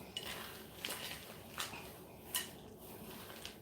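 A spoon clinks against a bowl in a few light, separate taps while walnuts are stirred into vegan chocolate chip cookie dough, faint and close with quiet pauses between strokes.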